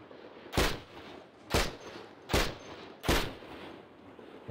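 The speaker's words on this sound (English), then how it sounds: "Honestly, I'm just gonna shoot these guys." Four loud, evenly spaced gunshots ring out from a weapon firing at zombies in the survival game Cataclysm: Dark Days Ahead, each crack trailing off before the next.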